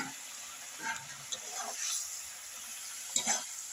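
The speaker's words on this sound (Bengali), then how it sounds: "এবার মাছগুলো আমি এর মধ্যে দিয়ে দিচ্ছি।" Amudi fish added to a pan of spices for macher jhal, giving a soft, steady sizzle with a few brief scraping stirs, fairly quiet overall.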